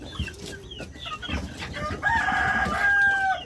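Young backyard chickens clucking close by, a busy run of short overlapping calls that ends with a few longer, drawn-out cries.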